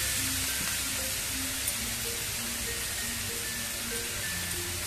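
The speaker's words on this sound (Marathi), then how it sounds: "तूप चांगलं गरम झालंय। हा लाल भोपळा किसलेला ह्याच्यावरती टाकूया।" Grated red pumpkin sizzles steadily in hot ghee, a close, even, continuous hiss with no breaks and no voices.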